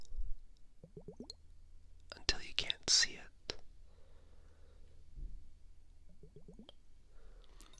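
ASMR water sounds in complete darkness: a burst of wet plops and drips clustered in the middle, close and crisp, between stretches of soft whispered speech.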